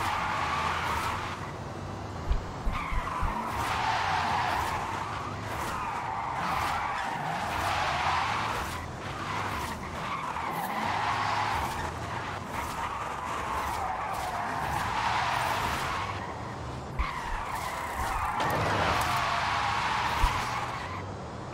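Sustained tyre skid from a car drifting in the video game Forza Horizon 5, in a Porsche Taycan Turbo S or Mercedes E63s AMG: a long, loud squeal that rises and falls in waves over a steady engine hum, with occasional bumps.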